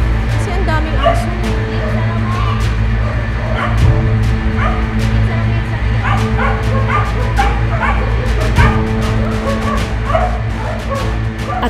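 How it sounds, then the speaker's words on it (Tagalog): Many dogs in a crowded shelter bark, yip and whimper almost nonstop, with sharp yelps over a steady din, while people talk underneath. "Kasi ang daming aso."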